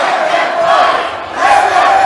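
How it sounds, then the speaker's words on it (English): Displeased crowd at a cage fight event in the Newburgh Armory, loud sustained jeering and shouting that dips briefly in the middle and then surges back. "And the crowd not happy about it."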